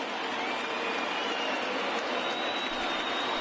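A baseball stadium crowd of about 26,000 fans rising and cheering, a dense, steady roar of distant voices and applause that fills the whole stretch evenly.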